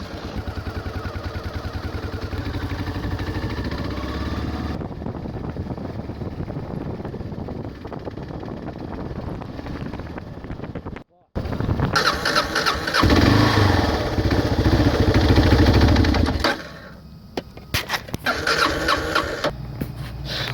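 A motorcycle engine on a farm, just repaired, cranks and starts, then settles into a loud, steady idle, cutting out briefly before revving again; a rooster crows faintly in the background.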